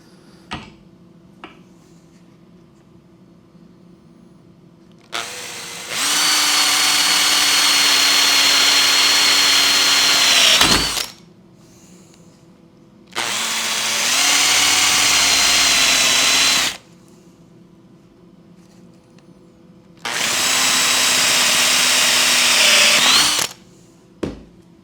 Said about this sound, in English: I'm going to drill out this slot here using a drill